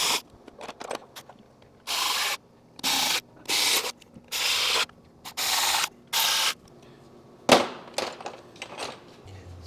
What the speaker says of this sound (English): Start them by hand, go back in with my electric ratchet, get them tightened up